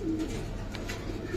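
Giribaz pigeons coo softly nearby in short rounded phrases, a breeding pair of patterned birds in a fancier's loft.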